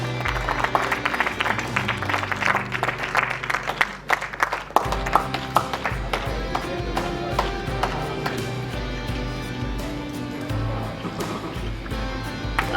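Audience at the Kalptaru Awards 2022 in Rajasthan gives sustained applause, a steady patter of many hands clapping at moderate distance with scattered sharper claps, continuing for several seconds.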